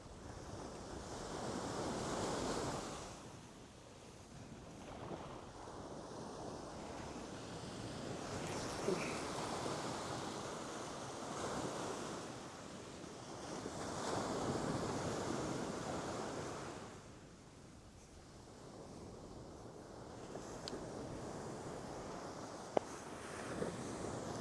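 Ocean surf rolls onto a beach in slow swells, each wave building and receding every few seconds, with steady wind buffeting the microphone and no voices.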